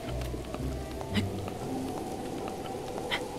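Rain falls in a Zelda video game, a steady patter of drops with a few sharper ticks over a low ambient rumble, and no one speaks.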